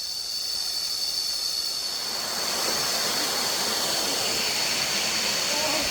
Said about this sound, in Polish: Dochodzimy do tej głównej atrakcji wodospad.